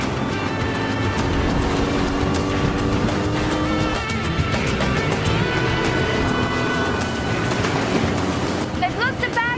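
Boat engines running during a Sydney Water Police chase on the harbour, a continuous throbbing rumble with some higher whine, under talk and radio chatter throughout.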